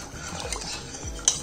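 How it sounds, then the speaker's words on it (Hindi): Tadka tempering added to dal in a kitchen pot, heard as a short burst of metal spoon scraping and stirring with light clinks against the pan. "ये गया मस्त दाल में तड़का"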